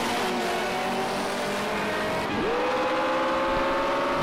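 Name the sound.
Mitsubishi Lancer Evolution VI engine accelerating in video game Project Cars 2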